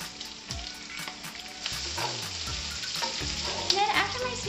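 Italian sausage and sweet potatoes fry in a pan, giving a bright, crackling sizzle with irregular pops and stirring scrapes, close and fairly loud throughout.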